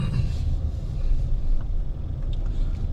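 Cars creep through a morning traffic jam at a lakeside campground, giving a steady low engine rumble close by with no voices.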